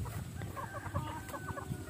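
Backyard pet chickens in a Philippine barangay give soft, repeated clucks and short warbling calls, close by and fairly quiet over a low, rumbling background.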